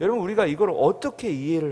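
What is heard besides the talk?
No distinct noise like a dog, phone or traffic.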